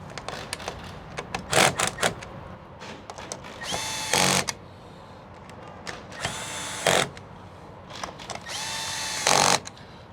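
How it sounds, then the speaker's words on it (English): An impact driver with its clutch set low tightens solar bracket bolts on a trailer in three loud hammering bursts between quieter clicks and handling noise. "on my impact, I usually set the torque, the clutch about 12. So we're going to start at 12 and then we're going to tighten these"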